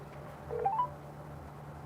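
Phone dialing produces a few short tones in quick succession over a low steady hum, fairly faint, followed by a brief louder electronic tone at the end.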